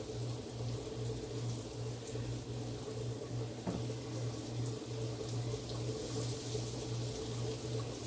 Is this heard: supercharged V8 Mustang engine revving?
no